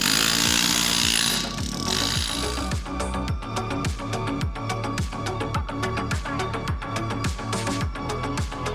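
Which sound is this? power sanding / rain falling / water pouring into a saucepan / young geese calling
power sanding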